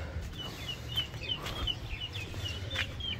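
Chicks and fowl kept alongside pigeons give soft, repeated clucks and high peeping calls scattered through the clip, fairly close, over a steady low background hum, with no talking.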